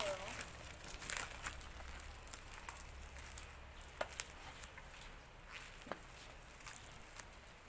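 Soft crinkling and tearing of parcel packaging around truck accessory parts, with scattered crackles and light taps over a faint background hiss, close by and quiet.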